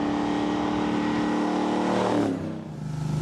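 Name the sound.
hot rod car driving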